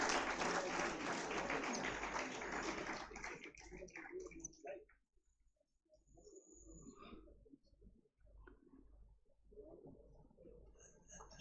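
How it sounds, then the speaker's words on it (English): Audience applause at a university graduation ceremony, a dense burst of clapping for about three seconds that cuts off abruptly, leaving quiet room noise and faint murmurs. "Can you all encourage by clapping them nicely?"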